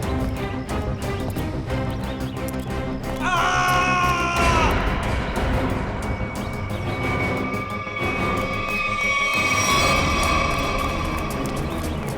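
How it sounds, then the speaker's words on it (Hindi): A crowd of people screaming and yelling in panic, loud and continuous, with shrill cries rising over a dense, chaotic din. "ये आवाज, ये चीखने की आवाज कहां से?"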